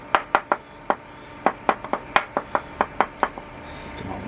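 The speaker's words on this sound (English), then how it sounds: "It's just an old machining hammer." An old machining hammer taps metal in a steady series of about sixteen sharp, close knocks at an uneven, brisk pace, then stops and a soft rustle follows.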